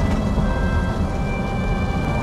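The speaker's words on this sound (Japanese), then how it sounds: "雨がですね先ほどから降ってきましてね" Heavy rain pours at a solo campsite facing the Kuju mountain range, a dense, loud, unbroken rush with deep low rumbling throughout and no talking.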